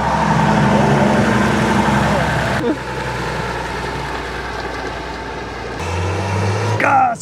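A car engine revs in Landsberg am Lech, a steady close rumble under what sounds like other activity, rising sharply in pitch near the end as the car accelerates.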